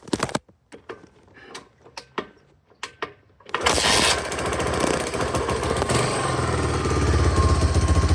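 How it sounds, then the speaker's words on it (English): A 1986 Honda 200X three-wheeler engine is kicked over several times with sharp separate thumps, then catches and runs on choke, idling loud and steady with a buzzing rattle that holds close and even to the end. "When it's warm, it usually likes to start right up, but when it's a little bit cold, it wants a little choke."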